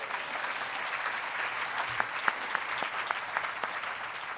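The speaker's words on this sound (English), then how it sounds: "you can clap if you want" An audience at a storytelling show at the Edinburgh International Book Festival applauds in a sustained, even roar of many hands, moderately distant, with a few crisp individual claps popping out.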